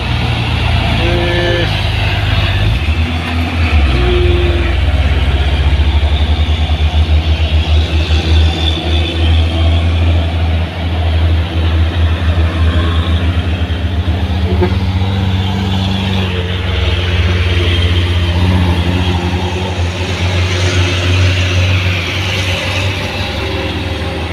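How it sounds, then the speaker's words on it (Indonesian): Heavy tanker truck engines rumble loudly and continuously as a convoy of tanker trucks rolls past close by. "Konvoy truk tangki ya teman-teman."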